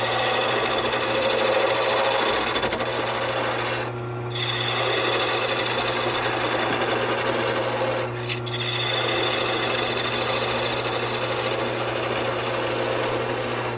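A wooden pear spins on a wood lathe while a parting tool cuts into it, making a steady, close whirring scrape over a low motor hum. The scrape breaks off briefly twice as the tool lifts away.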